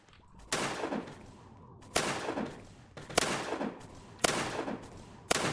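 Gunfire in the Roblox game Zombie Rush: five loud, booming shots spaced about a second apart, each with a long rumbling tail, with no talking.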